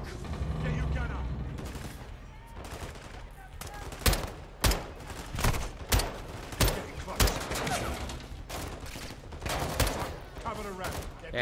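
Gunfire from shooters at a wall in a video game campaign: a rapid string of sharp, loud individual shots in an irregular rhythm, mixed with mechanical clatter and voices speaking over the fighting.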